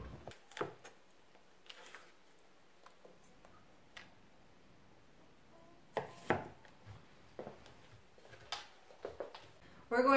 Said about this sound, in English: I'm just gonna cut these pretty much just in half, big chunks, to add into our mix here